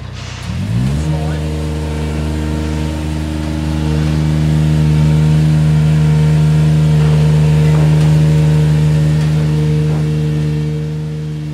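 A manlift aerial work platform without oscillating axle starts its engine and labors steadily up an uneven, steep slope, a close, continuous mid-pitched drone that swells slightly as it strains.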